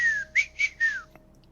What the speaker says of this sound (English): that was whistling